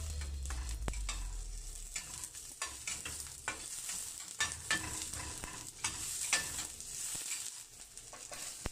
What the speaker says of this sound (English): I will saute first the onion